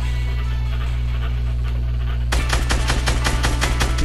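Rapid bursts of automatic gunfire in the Fortnite video game start partway through and fire close and loud in quick rhythmic volleys over a steady low game hum.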